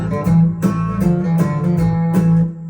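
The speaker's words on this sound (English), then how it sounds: "this is the first sound that I went for, which is a timpani drum" Booming timpani strikes land in a loose rhythm, around six hits over a low sustained tone, loud and close with no talking.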